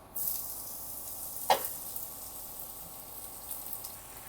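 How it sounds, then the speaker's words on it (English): Mushrooms added to olive oil in a pan, a soft steady sizzle with one brief louder splash of hissing as they hit the oil, quiet and close. "adding some olive oil into our pan and then adding our mushrooms"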